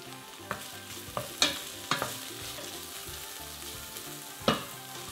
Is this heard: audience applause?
no